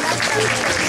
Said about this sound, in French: on peut applaudir très fort Maxime.